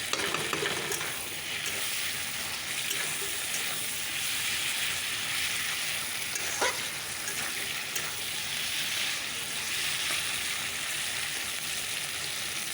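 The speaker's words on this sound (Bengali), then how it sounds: "মশলাটা দিয়ে দিলাম" Masala spice paste and vegetables fry in a pan, giving a continuous loud sizzle with scraping stirring noises mixed in throughout.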